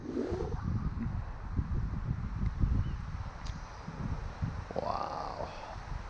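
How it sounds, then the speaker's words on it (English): Strong, gusty outdoor wind buffets the microphone with a steady, fairly loud rumbling roar that swells and eases in gusts throughout, while a small Ryze DJI Tello drone flies in sport mode. "See, right now it's windy."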